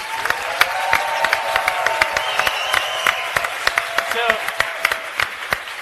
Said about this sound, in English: A round of applause for resistance units.